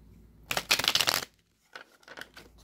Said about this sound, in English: let me get my last couple shuffles in